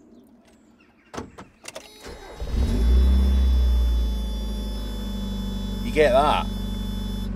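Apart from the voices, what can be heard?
Mazda Miata door warning buzzer at startup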